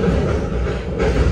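Panoramic train coming to a stop at Surabaya station, a steady low rumble of the rail car interior, a continuous dense roar with no clear clicks.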